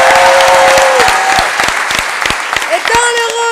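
An improv festival crowd in Paris claps in a loud, close burst that thins slightly before swelling again, with a sustained musical tone and a few whistles or cheers over the applause.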